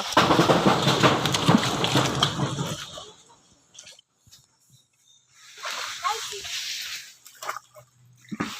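Shallow dirty water under mango trees splashes loudly and close for a few seconds, then goes quiet, and voices talk over the remaining stretch.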